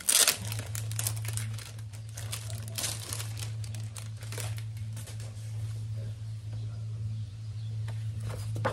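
Sheets of paper are handled and rustled close by in crisp, crinkling bursts over a steady low hum, with the handling loudest near the start and continuing intermittently throughout.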